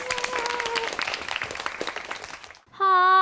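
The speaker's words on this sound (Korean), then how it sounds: "그러면 박수 좀 부탁드릴게요" A quiz-show audience claps steadily in a dense burst of applause, then it stops abruptly as a sustained sung tone begins a Jeju folk song about the dol hareubang.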